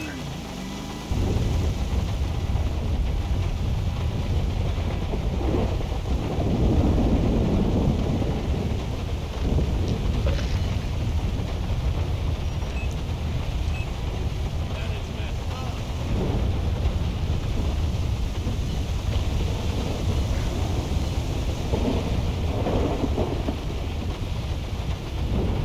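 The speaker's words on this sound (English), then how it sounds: "This is actually a mod that causes this storm." A modded thunderstorm in Grand Theft Auto 5 roars steadily with heavy rain and wind, punctuated by rolling rumbles of thunder, loud and continuous for the whole stretch.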